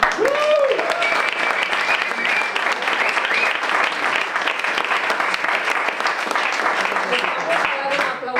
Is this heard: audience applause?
yes